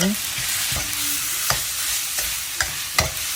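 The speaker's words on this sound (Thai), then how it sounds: "เติมสะโพกไก่หั่นผัดให้เข้ากันค่ะ" Spatula scrapes and stirs through sliced chicken thigh sizzling in hot oil in a pan, with rhythmic strokes over a constant frying hiss.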